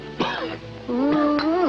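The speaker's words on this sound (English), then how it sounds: "That cough of yours stays with you like poor relation." A person coughing and clearing the throat, a couple of short harsh bursts followed by a voiced, drawn-out rasp, close and fairly loud.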